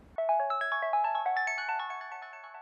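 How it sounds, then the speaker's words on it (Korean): A phone ringtone plays a bright, repeating electronic melody of quick chiming notes, starting abruptly and continuing steadily, loud and close with nothing else under it. "전화가 옵니다."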